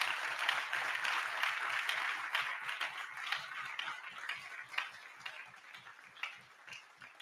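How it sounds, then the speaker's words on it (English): Audience applause at an opening plenary session in Indiana, a steady wash of many hands clapping that stays fairly loud for several seconds before thinning toward the end. "you give applause for that"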